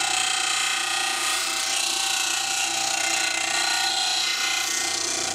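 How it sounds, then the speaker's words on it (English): A thin metal part is pressed against a spinning sanding disc, making a steady, loud, hissing grind that holds evenly for the whole stretch with no pauses. "I'll put it on the sanding disc to make it a little bit more perfect. This thin metal sands up really nicely."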